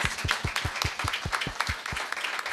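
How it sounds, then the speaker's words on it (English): Audience applause for a speaker at a talk on empathy and inclusion, a thin, fairly sparse clapping with a few distinct nearby hands beating steadily over a softer crowd. "Let's give him a big round of applause."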